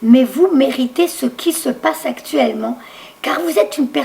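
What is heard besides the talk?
No distinct noise like a dog, phone or traffic.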